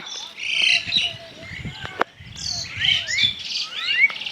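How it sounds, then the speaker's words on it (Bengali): Several birds chirp and call in bright, quick bursts, with a low rumbling murmur of background noise underneath. "দুটি শালিক পাখি বসে আছে আরেকটি এসে বসলো"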